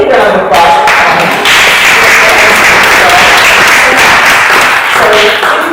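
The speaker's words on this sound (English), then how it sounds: "a big round of applause for Connie." Sustained audience applause for Connie Carter, the MC at a Sunday service at Althea Center, a dense steady clapping that fills the whole stretch at close range, with a voice briefly heard over it.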